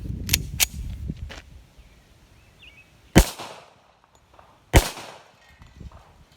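A Rock Island Armory M1911 pistol fires at a helium tank outdoors. Four sharp, loud reports sound: two in quick succession at the start, then two more spaced shots with quieter stretches between.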